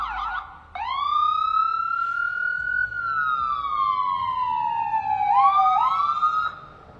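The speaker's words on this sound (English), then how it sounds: "And I do apologize for the siren in the background." A loud siren wails steadily, rising and falling in long sweeping tones, then switches to a quicker yelp near the end; no talking.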